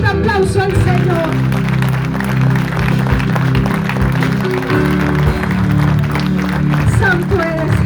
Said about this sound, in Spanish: Brinden un fuerte aplauso al Señor.